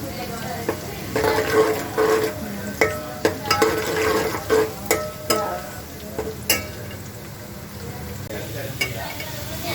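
Steady sizzle of onions browning in a pan, with intermittent clinks and scrapes of a utensil stirring against the pan.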